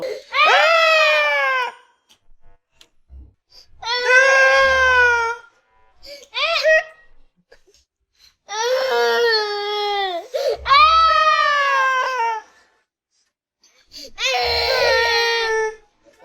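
Loud, close crying comes in repeated high wailing bursts of one to two seconds, separated by short silences.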